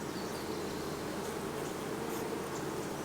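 Honey bees hum around a hot summer hive while feeding on protein patties, a dense, continuous close buzz with no voices.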